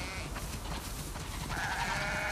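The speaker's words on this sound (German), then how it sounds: "Wow, das sind viele Schafe." Sheep bleat in the video game The Last of Us 2, several wavering calls over a busy, noisy background, with a louder bleat near the end.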